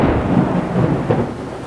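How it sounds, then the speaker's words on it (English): Thunder rumbling during a pouring rainstorm, a close, loud, low rolling roar that swells and fades over a couple of seconds, with rain noise underneath. "because there is thunder"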